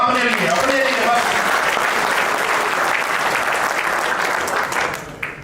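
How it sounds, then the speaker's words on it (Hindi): Crowd at a presentation breaks into loud, sustained applause, with a voice briefly audible at the start, the clapping steady before fading near the end. "जोरदार तालियां अपने लिए"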